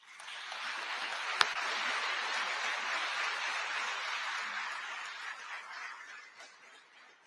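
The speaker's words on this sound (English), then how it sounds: "Please give a final round of applause for their dedication and tireless efforts" An audience at a military ceremony at Fort Sam Houston gives a final round of applause, a broad, even wash of clapping from a crowd that starts after a sharp snap and slowly dies away.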